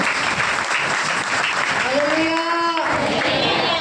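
A church congregation at Sunday Pentecostal worship claps to praise the Lord, a dense continuous burst of many hands with a voice rising over it partway through.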